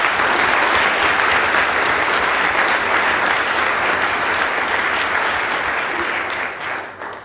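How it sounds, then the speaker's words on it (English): A crowd applauds steadily with loud, dense clapping that continues for several seconds before fading toward the end. "A big applause for Eric Dilkes."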